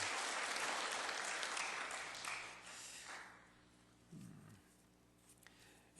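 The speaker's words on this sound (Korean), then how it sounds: "우리 박수로 한번 환영하시겠습니다" A church congregation at a Sunday worship service claps to welcome the Korean school staff, a dense burst of applause that fades out after a couple of seconds, leaving a quiet hall with faint stray sounds.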